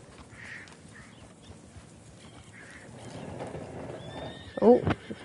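Horse in the Red Dead Online video game gives a short neigh near the end, preceded by faint rustling and soft low hoof sounds, all fairly quiet.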